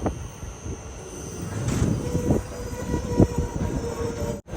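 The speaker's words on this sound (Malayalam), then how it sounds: "ട്രെയിൻ ഇപ്പോൾ ചെങ്ങന്നൂർ റെയിൽവേ സ്റ്റേഷനിലെത്തി" The Vanchinad Express rumbles along the rails between Thiruvananthapuram and Ernakulam, heard from inside a chair car: a steady, loud rolling drone with rhythmic clacks and a faint wheel squeal.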